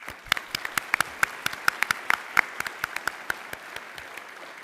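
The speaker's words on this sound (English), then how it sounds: "here's a round of applause" Audience at a 2025 school graduation ceremony in Dammam claps for the graduates' parents, scattered, distinct hand claps at moderate volume rather than a dense roar, continuing steadily for several seconds.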